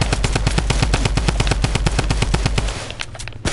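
Rapid automatic gunfire from a video game rattles out as a dense, loud, steady string of shots for about three seconds, then stops abruptly.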